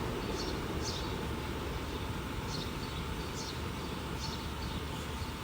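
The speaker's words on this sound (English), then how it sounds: "That subway train that just passed by even has digital banners." A subway train passing by, a steady loud broadband rumble and roar filling the whole stretch, with faint repeated high squeals from the wheels on the rails.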